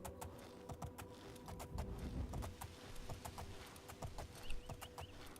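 Rhythmic clip-clop of horse hooves in Oblivion (The Elder Scrolls IV) at night near an inn, a steady run of sharp hoofbeats over ambient game background, with no talk.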